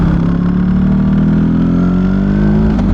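A motorcycle engine drones loud and close during a ride to the gym, holding a steady, even pitch for the few seconds without any pause.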